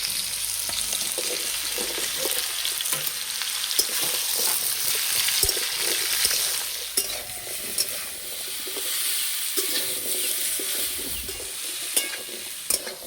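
Pumpkin and mixed vegetables fry gently in a pan over low heat, a soft continuous sizzle threaded with scraping stirs and small crackles, with no speech.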